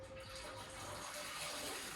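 Water drains steadily out of a car lift's hydraulic system during installation, a continuous close splashing gush that holds even throughout, with no talking.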